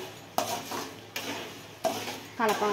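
Jaggery melting into syrup in a pan is stirred with a utensil, giving four sharp scraping strokes spaced about a second apart over a soft bubbling sizzle, close and moderately loud.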